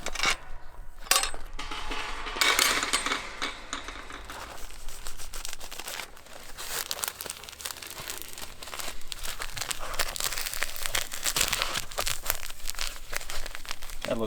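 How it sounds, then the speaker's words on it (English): Pipe insulation being wrapped around a pipe and fastened with PVC tape gives a steady run of close crinkling, rustling and tearing, with a few sharp clicks near the start and no talk. "wrap this around the pipe and then secure it with the PVC tape."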